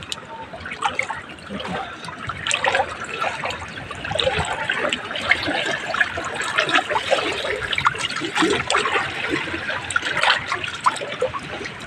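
Someone wading through cold, dirty, deep floodwater during a typhoon, with continuous sloshing and trickling splashes that rise and fall irregularly at close range.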